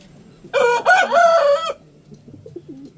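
A rooster lets out a single loud crow lasting just over a second, close by, followed by soft clucking from hens in the background.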